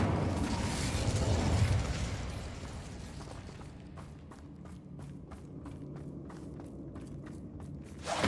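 Incendio fire spell from Hogwarts Legacy bursts with a loud whooshing blast that swells and fades over a couple of seconds, followed by a series of quieter rhythmic clicks and footsteps.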